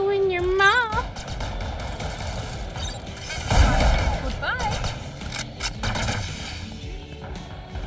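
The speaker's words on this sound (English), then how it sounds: "Placing swarm grenade." A swarm grenade goes off in a video game as a broad, noisy blast near the middle, surrounded by game sound effects and scattered player voices.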